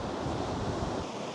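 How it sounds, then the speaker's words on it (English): Waves break on a Cornish beach near sea caves, heard as a constant distant surf roar mixed with gusting wind across the microphone, with no voices. "you can probably hear the waves in the background"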